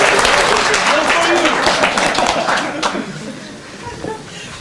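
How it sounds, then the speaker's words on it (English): Conference audience applause after a speaker's introduction, loud dense clapping that fades over a few seconds with some murmurs and chuckles mixed in. "please welcome her warm. Give her applause"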